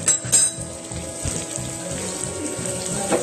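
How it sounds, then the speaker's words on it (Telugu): A pot of tomato rasam boils with a steady bubbling, watery burble, fairly close and continuous, with a few light clinks near the start. "ఇదిగోండి మన చారు చూసారా ఎంత బాగా మరుగుతుందో"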